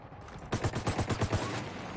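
Gunfire in a video game, a rapid rattling string of about ten shots fired in quick succession after a quiet moment, fairly loud and close, with no speech over it.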